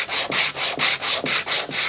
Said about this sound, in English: At the moment, I'm just sanding that plywood off to bring that really down flush.